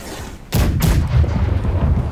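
A ship's broadside cannons fire at a galleon in the naval game Blackwake, two sharp heavy booms in quick succession followed by a low rumbling roar of the sea and ship.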